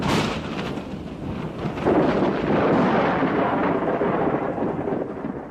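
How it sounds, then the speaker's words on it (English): Deep rolling thunder rumbles on and off over the Drakensberg mountains in South Africa, swelling louder midway and lingering like an echo across open hills, with no rain audible. "The hills echo the coming storm"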